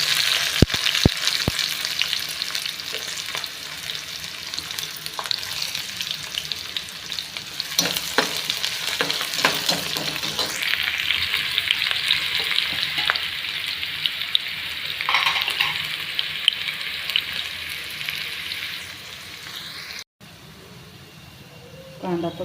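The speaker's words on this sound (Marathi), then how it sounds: "कांदा परतत आहे आपला" Chopped onion sautés in oil in a kadhai on a gas stove for a Marathi-style tur usal, a steady bright sizzle with scraping stirs, running continuously and loud until it cuts off near the end.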